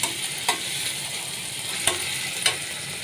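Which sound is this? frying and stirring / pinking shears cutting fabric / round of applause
frying and stirring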